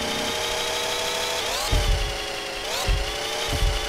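A car engine revving in Grand Theft Auto III, a steady high droning whine that sweeps upward twice as the revs climb, with low thumps underneath, loud and close.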